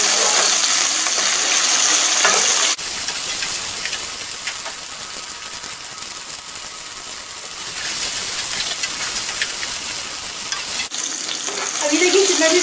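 Capsicum (bell pepper) fries in a hot pan with a loud, steady sizzle, while a spatula stirs it in scraping bursts at the start and end.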